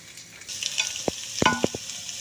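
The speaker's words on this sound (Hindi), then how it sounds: "प्याज को हम कढ़ाई में शामिल करने लगे हैं। अच्छी तरह से मिक्स कर लेना है।" Ground onions hitting a hot kadhai, with a few sharp sizzling bursts and stirring clatters over a steady low hiss of frying, close and fairly quiet.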